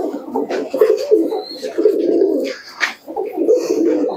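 Desi Giribaz pigeons at a pigeon sale coo steadily and close by, a low continuous warbling that barely breaks across the moment.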